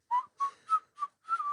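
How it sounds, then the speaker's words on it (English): Someone whistles a hip hop tune in five short, clear bursts, close and alone with silence between the notes. "We're just whistling some hip hop in the background."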